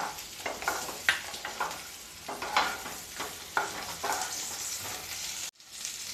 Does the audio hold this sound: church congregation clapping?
no